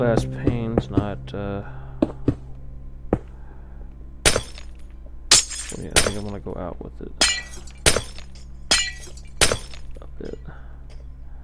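Glass panes breaking in the Minecraft video game on Xbox 360: a string of sharp, bright shattering crashes spaced a second or so apart. Talking runs between and under them near the start.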